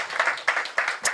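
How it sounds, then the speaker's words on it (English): A small audience at an event gives a short burst of clapping, a few uneven clusters of claps close by over about a second. "A little bit of applause for"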